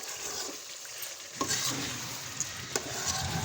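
Chicken karahi sizzles and fries in a wok while being stirred, a continuous crackling hiss broken by a few sharp clinks of a utensil against the pan.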